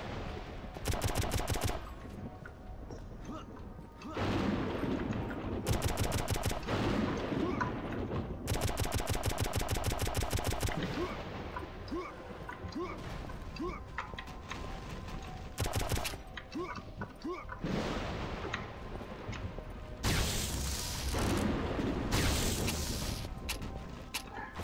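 Rapid gunfire and machine-gun bursts from the shooter game Painkiller Black Edition, loud and dense through most of the stretch, broken by short pauses, explosive crashes and mechanical clatter; a voice speaks briefly among the shots.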